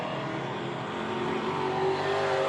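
Speedway race cars roar around the track at Hobart Speedway, a loud, continuous engine drone rising slightly as the cars pass close by.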